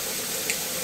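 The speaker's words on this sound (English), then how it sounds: "I'm just going to take it over to the tap and fill it on up to 1 gallon with cold water" Cold tap water runs steadily into a Brita filter jug being filled toward one gallon, a soft continuous hiss of flowing water with a brief splash midway.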